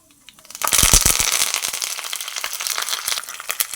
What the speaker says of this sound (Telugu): ఇప్పుడు నెక్స్ట్ కరివేపాకు అండి